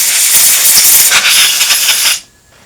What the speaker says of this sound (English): Keep blowing that off real good